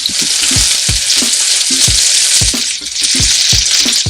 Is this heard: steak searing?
yes